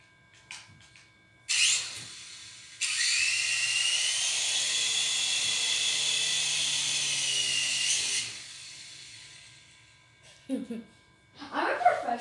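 A high-pitched whirring buzz of a toy helicopter rotor runs steadily for several seconds, starting and stopping abruptly, with brief laughter and voices around it.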